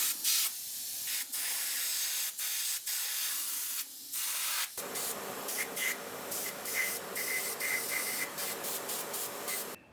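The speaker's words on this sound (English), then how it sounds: "Next up, I'm gonna throw a coat of clear coat on this, and this is simply to seal over everything" An airbrush sprays clear coat onto a 3D-printed rifle prop in steady hissing bursts. Short pauses break up the spraying, and it gets more continuous in the second half.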